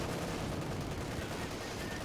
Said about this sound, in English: Zephyr's there being massacred by heavy fire there from all of Findeed's forces